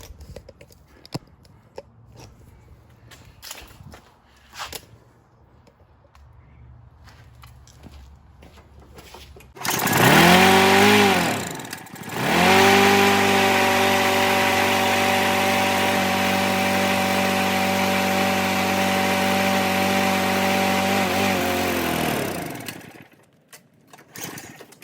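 A 1991 Murray riding mower engine, model 21711X8A, is heard after a carburetor adjustment. Quiet clicks and fiddling come first, then the engine starts loudly with a brief dip and settles into a steady, strong, close-up drone until it cuts off near the end.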